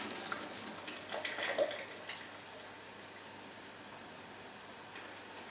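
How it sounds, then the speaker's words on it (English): Boiled potatoes and garden peas being drained, water pouring and splashing steadily at close range, a louder gush early on settling into an even running wash with no one talking. "Now I'm just going to drain the spuds and the peas."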